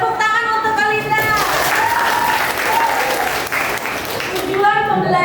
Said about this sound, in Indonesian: Tepuk tangan untuk Alinda